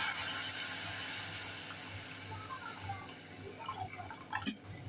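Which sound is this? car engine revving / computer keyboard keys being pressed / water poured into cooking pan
water poured into cooking pan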